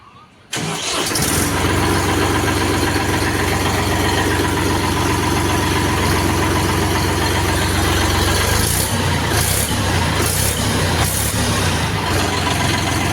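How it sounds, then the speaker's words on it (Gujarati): An Eicher 450 tractor's diesel engine cranks and fires within the first second, then settles into a loud, steady, close-up idle that chugs on evenly for the rest of the clip, with no voices. "હવે આપણે જોવું આ ટ્રેક્ટરનું સ્ટાર્ટિંગ અને આનો ટર્નિંગ રેડિયસ"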